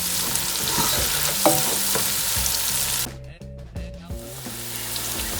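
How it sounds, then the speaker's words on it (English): Onions and spices fry in a pot for a vegetarian breyani, giving a loud, steady sizzle with occasional scraping and clatter from stirring. The sizzle briefly quiets midway, then returns, with no talking. "spices are cooking, and the onion, which is most important, is getting translucent."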